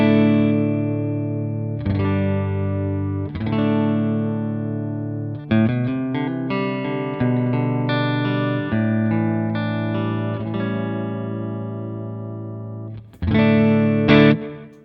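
Electric guitar through the Grammatico GSG amp model in a Line 6 Helix: sustained, ringing chords and single notes played alone, each left to decay, with a louder strummed chord near the end.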